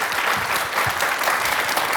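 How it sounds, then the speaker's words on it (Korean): A TV studio audience on a Korean morning talk show claps to welcome a guest professor, loud uniform applause filling two seconds without a break. "박수로 환영해 주시면 고맙겠습니다"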